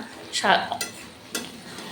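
A spoon stirs Bengali labra mixed vegetable curry in a pan, giving a couple of brief metallic scrapes and clinks over a faint sizzle, close up and short.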